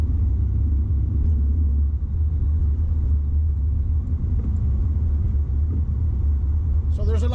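A car cruising on the 110 freeway in Los Angeles toward Pasadena gives a steady, loud low road rumble throughout, with no big changes in level.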